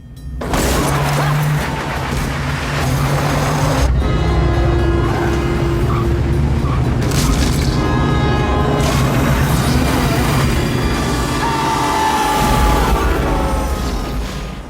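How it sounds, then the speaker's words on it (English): A car is shoved into the path of an oncoming locomotive in a film scene, with loud engine roar, a heavy crash and booming impacts, then sustained rumbling and rushing noise throughout. "his car is rammed into the path of an oncoming train"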